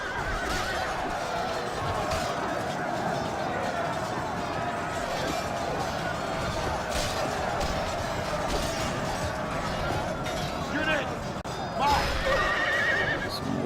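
Horses whinny and hooves clop amid the clash and noise of a medieval cavalry fight against pikemen in the Medieval II: Total War strategy game. The sound is a steady, busy battle ambience with a louder burst near the end.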